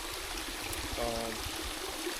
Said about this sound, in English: I found a stream.